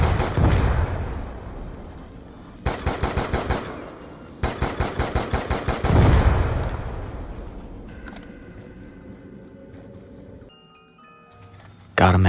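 SMR rifle fire in Call of Duty Zombies: two bursts of rapid, loud, closely spaced shots ring out between quieter stretches of game ambience.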